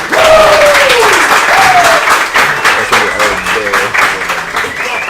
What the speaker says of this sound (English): Please give a round of applause to my first two guests